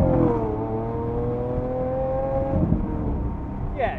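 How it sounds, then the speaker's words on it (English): A car engine revs hard and holds a steady drone, then settles as a few sharp exhaust pops crackle near the end, loud and close with no one talking. "The pops that come out of this car are insane."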